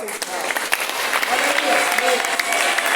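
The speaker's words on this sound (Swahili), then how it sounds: "Hebu tumpigie Bwana kwa makofi" A church congregation claps together in a dense, steady burst of applause lasting throughout, with a voice speaking over it.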